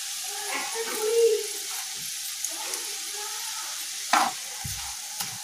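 Fried rice frying and being stirred with salt and sugar in a pan, a steady sizzle with scraping stir strokes and a few sharp utensil knocks; a dog barks faintly nearby.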